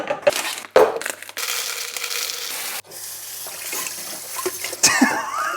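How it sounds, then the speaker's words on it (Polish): Decorative gravel poured into a shrimp tank: loud, continuous crunching and rattling of small stones in bursts, with brief pauses and a final clattering spill. "dorzucimy jeszcze żwirek dekoracyjny"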